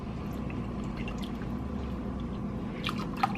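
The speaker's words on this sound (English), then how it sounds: "I'm going to add in about 2 cups of water" Roughly two cups of water poured into a soup pot of Italian herb turkey meatball soup, a steady soft pour and splash with faint drips near the end, close and fairly quiet.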